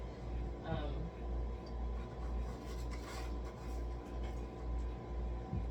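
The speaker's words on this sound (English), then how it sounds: "That noise is just the ice machine" A steady low mechanical hum of an ice machine running, with a constant drone and faint rattling throughout, fairly close and continuous.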